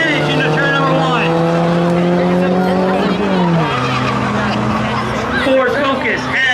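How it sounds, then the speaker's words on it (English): Volkswagen Passat and Ford Focus street-legal cars racing at a drag event, steady loud engine drone with rising and falling pitch that drops sharply midway, tire noise and crowd din throughout. "The Volkswagen Passat with the advantage into turn number 1."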